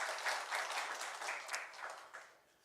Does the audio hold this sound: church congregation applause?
yes